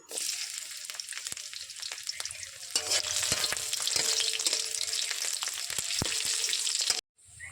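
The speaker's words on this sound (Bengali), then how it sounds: "দিয়ে দেবো রসুন ফোড়ন" Garlic tempering in hot oil crackles with a bright, close sizzle broken by stirring clicks, surging louder midway before cutting off abruptly near the end.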